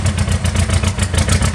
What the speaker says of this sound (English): good running LP gas Clark engine